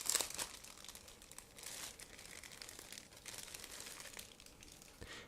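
A plastic bag holding gray and transparent sprues from an Eduard 1/48 Spitfire LF Mk.IXc model kit crinkles and rustles close up, in irregular bursts of crackling with brief pauses.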